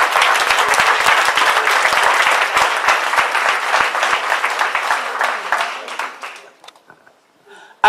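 A crowd at an award dinner applauds loudly and steadily for several seconds, then the clapping fades out, leaving a brief quiet stretch with faint voices.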